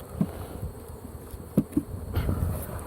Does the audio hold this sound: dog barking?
no